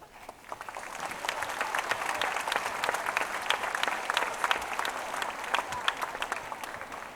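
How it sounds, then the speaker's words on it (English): Applause at an 8th-grade promotion ceremony for supporters: crowd clapping swells in after a quiet start and holds steady, crisp individual claps standing out in a full, moderately distant room. "give a round of applause to all of the people who support us today"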